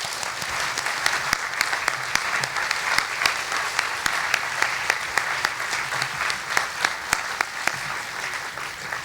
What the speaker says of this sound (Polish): gorące brawa dla niego